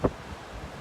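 Strong wind with big waves on Lake Michigan, a short gust or wave thump at the start, followed by steady low buffeting wind noise.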